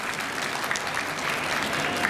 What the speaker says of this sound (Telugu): వాళ్ళకి గట్టిగా చప్పట్లు కొట్టాలి.